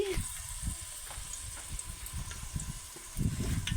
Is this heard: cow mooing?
no